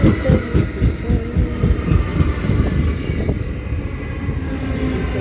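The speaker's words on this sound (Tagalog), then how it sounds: "Nandito na po yung train." A Caltrain commuter train pulls into the station, a loud, steady low rumble with rhythmic clatter of wheels over rail joints and a faint high whine, continuous throughout with no voices.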